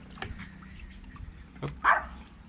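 A dog near a plastic-tub frog farm gives a couple of short barks, the louder one near the end, amid faint dripping water and low background noise.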